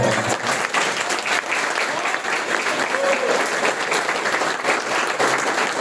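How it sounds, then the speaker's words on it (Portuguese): A congregation at a church temple inauguration service gives warm applause, dense continuous clapping filling the space at a steady level with faint voices underneath. "Pode abrir outra calorosa salva de palmas."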